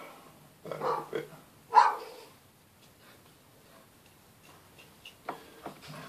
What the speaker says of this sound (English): the dog's going mad